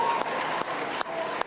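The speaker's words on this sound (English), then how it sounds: "there's audience here, including Eric Abetz, is applauding that news" An election-night audience at a Tasmanian state election broadcast applauds in a steady wash of clapping, with a few sharp knocks breaking through.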